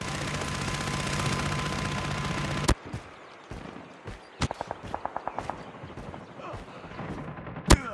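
A deployed sentry gun in a Call of Duty match fires in bursts of rapid sharp shots, set among other gunfire and game effects with a loud crack near the start and another near the end.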